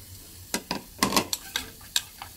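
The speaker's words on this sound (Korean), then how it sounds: "여기에 베이컨 먼저 볶습니다." Bacon is frying in a pan over low heat, with a soft sizzle punctuated by several sharp, separate scrapes and clinks of a utensil stirring it close by.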